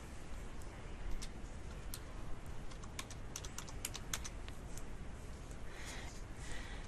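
Rapid irregular keystrokes on a computer keyboard as a password is typed, quiet clicks in a steady stream over faint room hiss with no talking.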